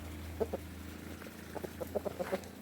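A rooster clucks in a series of short, low calls, a few spaced apart then several in quicker succession, moderately close over a steady background hum.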